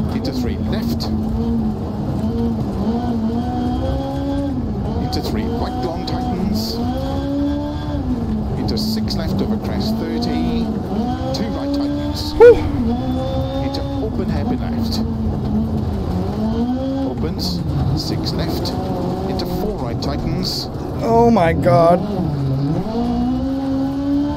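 A rally car engine in the video game Dirt Rally 2.0 drones and revs continuously, rising and falling through gear changes, with occasional tire noise and a brief bump partway through.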